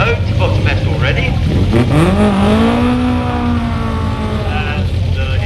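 A Lotus 47D race car revs up and accelerates at the Shelsley Walsh hill climb, its loud, rising whine sweeping upward close by over a constant roar.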